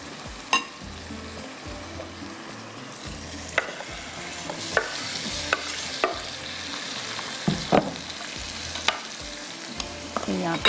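Chopped tomatoes fry with ginger and garlic in a pan, a steady close sizzle under repeated stirring and sharp clicks of the utensil against the pan, with no one speaking.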